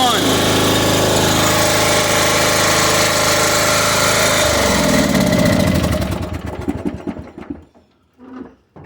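Riding lawn mower bought cheap, its small engine roaring loudly and steadily up close. It then winds down unevenly into sputters and stops, and a voice briefly follows.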